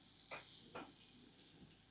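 A 10-gram cube of butter sizzles in a hot pan, giving a soft, steady hiss with a couple of brief stirring clicks over a short moment.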